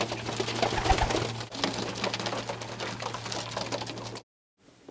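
Soft, low pigeon coos repeat over a steady hum and rustling background, ending abruptly in near silence.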